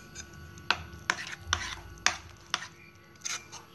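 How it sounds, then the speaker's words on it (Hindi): A spoon or whisk strikes a bowl in sharp, irregular knocks while wheat flour batter is stirred, about seven distinct taps over a soft scraping background. "इधर हमारा आटा भी सेट हो चुका है, तो इसे हम एक बार अच्छे से मिक्स कर लेते हैं।"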